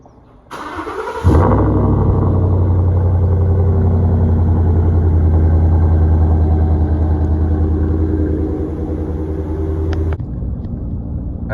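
A 5.0 V8 in a 2015-2017 Ford F-150 pickup cranks briefly, catches with a loud rev flare, then settles into a steady, deep, rumbling idle that eases slightly toward the end, close-up with no talk.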